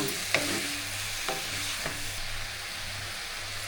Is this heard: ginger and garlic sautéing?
yes